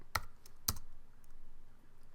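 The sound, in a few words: typing a command on a computer keyboard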